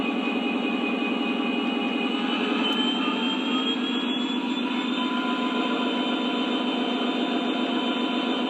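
Diesel engine sound from a Lionel Legacy Norfolk Southern SD60e model locomotive at RPM level 3: a steady, loud, even droning rumble with a faint rising whine partway through, holding throughout with no talk.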